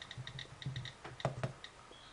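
Fingertips tapping the on-screen keyboard of an iPad 2 while typing in Safari: about a dozen faint, soft, irregular taps close by in a quiet room.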